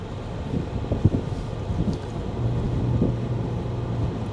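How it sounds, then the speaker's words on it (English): Wind gusts in Hilo, Hawaii rumble steadily against the microphone, a low buffeting roar with a few brief knocks, no voices. "it's a little bit windy today."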